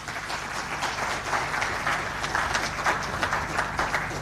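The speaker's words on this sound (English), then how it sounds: "another round of applause for the chair, MTN Uganda" Applause from an audience at a telecom company's IPO conference in Uganda, a moderately loud spread of clapping with individual claps standing out, continuing steadily without voices.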